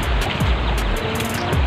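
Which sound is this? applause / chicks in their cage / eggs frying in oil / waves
waves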